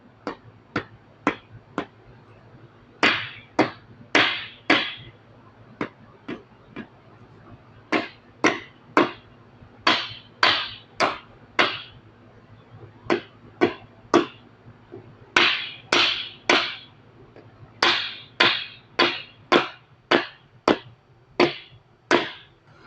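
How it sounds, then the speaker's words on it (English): A rubber mallet taps parts into place during reassembly of a 5.9 Cummins engine, sounding as a long series of sharp, close knocks, sometimes single and sometimes in quick runs of two or three, with brief pauses between the groups. "Take our rubber mallet here and seat all of these."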